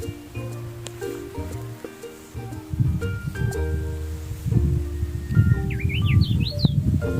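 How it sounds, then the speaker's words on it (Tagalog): Birds chirp and call in the open air on Mt. Timbak in Atok, Benguet, with short bright tweets and a rising, warbling call near the end over rustling and low background noise. "May mga ibon."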